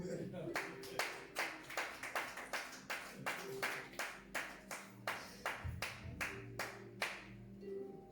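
A congregation claps in church in a quick, regular rhythm, with sharp distinct hand strikes layered over a faint background of voices and low tones.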